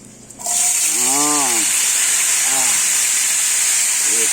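Yardlong beans drop into hot oil with garlic, setting off a sudden loud, hissing sizzle that stays steady and close while a voice speaks briefly over it.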